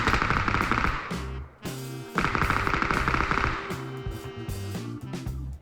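Loud, rapid automatic gunfire from the PUBG battle royale game, sustained bursts with a short gap, dense and close, with no talk.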